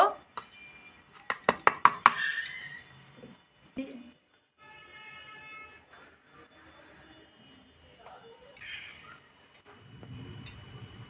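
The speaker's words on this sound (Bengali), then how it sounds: "সবগুলো কুচু কুচু করে কুচিয়ে নেব" A knife chops garlic, ginger and green chillies finely on a board, a quick burst of sharp taps early on followed by quieter handling noises, with a voice talking in the kitchen.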